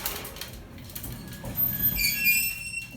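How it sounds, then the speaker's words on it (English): The heavy gate of a Westinghouse gated service elevator at the Fairfax Apartments in Oakland squeals with thin, high-pitched metal squeaks as it slides, over a low background rumble. "Very squeaky gate,"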